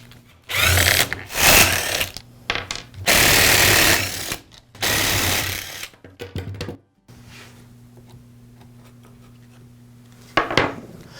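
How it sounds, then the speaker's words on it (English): Plastic clicks, rattles and scraping come from the side cover being pried off the trigger handle assembly of an Echo string trimmer, in bursts of close handling noise with a few quiet pauses and a faint background hum. "We'll begin by removing the side cover from the trigger handle assembly."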